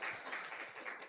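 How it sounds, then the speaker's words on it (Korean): Brief burst of audience clapping at a church gathering, continuous and fairly faint for just over a second. "우리 다시 한번 박수 크게 하겠습니다"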